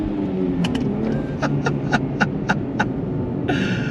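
A 2024 Nissan Fairlady Z with a manual transmission pulls under throttle, its engine a steady low drone heard from inside the cabin, overlaid by a series of sharp rhythmic clicks and a short burst of higher hiss near the end.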